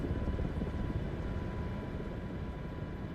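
An MH-60 helicopter in Microsoft Flight Simulator 2024 produces a steady, low rotor and engine rumble, constant and fairly close, with no talk over it.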